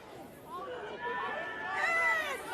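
Spectators at a women's rugby match between Matatu and Chiefs Manawa cheer and chatter from a distance, a steady crowd roar that rises slightly, under close commentary voices.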